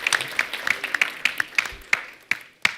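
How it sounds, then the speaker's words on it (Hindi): A studio audience at a Hindi comedy talk show claps for Akshay Kumar, a short burst of crisp, rhythmic applause, close and fairly loud, with no talking. "एक बार अक्षय पाजी के लिए खुल के तालियां।"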